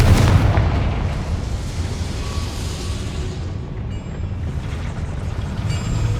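A Confringo blasting spell goes off in Hogwarts Legacy with a sharp boom at the start, followed by a rumbling low roar that slowly fades under a steady ambient bed.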